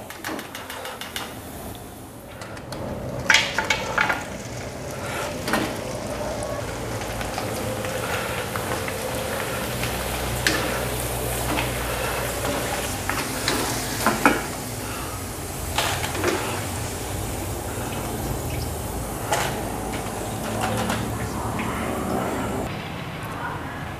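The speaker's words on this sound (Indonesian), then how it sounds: "kalau minyaknya sudah panas, sekarang langsung aja kita goreng kerupuk singkongnya" Cassava crackers sizzle and crackle in hot oil, a steady broadband frying hiss running throughout with scattered louder pops and clicks, fairly close, with no voice over it.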